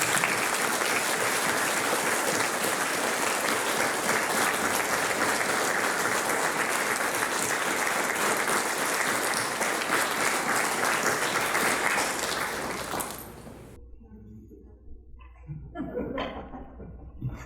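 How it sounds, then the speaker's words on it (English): Audience at a boys' school Year 8 prize giving applauds rugby and football teams, a long, dense burst of many clapping hands that holds steady for around twelve seconds, then quickly tapers off to scattered claps and quiet room noise. "Let's give these guys a big round of applause and those teams."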